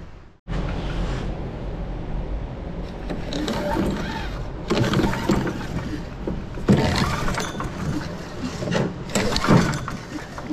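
Engine of a wheeled leaf blower being cranked to start outdoors, with repeated pull-start bursts and mechanical clatter rising and falling over several seconds, fairly close and loud.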